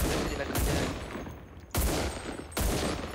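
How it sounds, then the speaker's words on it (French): Gunfire in the battle royale game Cuisine Royale: three loud, sharp bursts of shots spaced about a second apart, each with a short decaying tail, with no talk over them. "Il y a un gars qui m'a tiré dessus"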